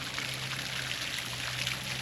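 Water pouring steadily into a garden pond beside a detached garage, a continuous splashing trickle close by, with a low steady hum underneath.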